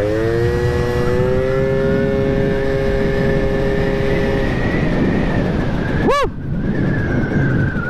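A Gilera Runner 180cc two-stroke scooter engine revs loud and close, pitch climbing and holding high with a buzzy, rising whine, then dropping off sharply; a man whoops near the end.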